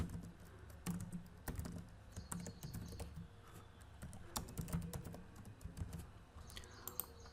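Rapid, uneven clicking of keys on a computer keyboard during Python coding, close and fairly soft, with irregular bursts of keystrokes and no voices.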